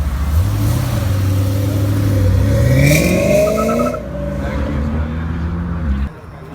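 A GT3 RS sports car engine revs loudly up and down nearby at a cars and coffee meet in Southlake, a deep roar rising in pitch before dropping to a steady idle.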